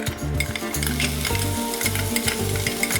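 Chopped garlic sizzles in hot oil for aglio e olio pasta, a steady close crackling fry with rhythmic stirring scrapes against the pan throughout.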